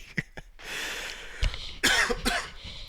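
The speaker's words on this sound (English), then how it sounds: "I start coughing." A person fighting a cold coughs several times in quick, harsh bursts close to the microphone, with raspy throat noise in between.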